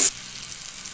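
Radish stir-fry with tomato, curry leaves, turmeric and salt sautéing in a pan, a brief hiss at the start settling into a faint, steady sizzle with no voices.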